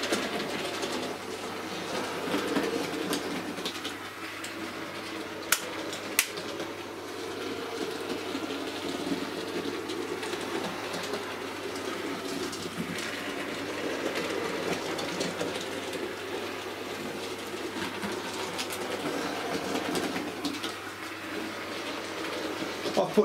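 A model rebuilt Battle of Britain class steam locomotive, the Royal Observer Corps, runs along track with a steady rhythmic clickety-clack and a low motor hum, continuous and close, with a couple of sharp clicks.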